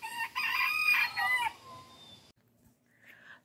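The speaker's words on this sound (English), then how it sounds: "That little rooster was deciding he wanted to yell, and then Ollie wanted to whine" An outdoor rooster on a small farm lets out one loud, close, drawn-out crow that trails off, followed by quiet and a faint distant cluck.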